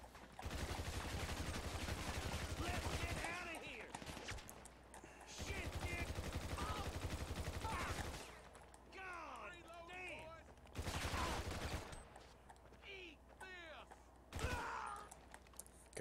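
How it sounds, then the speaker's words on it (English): Bursts of rapid automatic gunfire in a PS3 shooter come in several loud volleys separated by quieter gaps, with someone talking over and between the shots. "Ow, ow, who keeps shooting me?"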